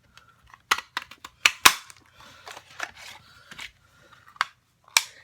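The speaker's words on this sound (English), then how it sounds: "I'm going to use that to cut out my top" A Cupcake Builder paper punch cuts out a cupcake top from card stock, giving a series of sharp close snaps and clicks in irregular bursts with crinkly paper handling between them and no talking.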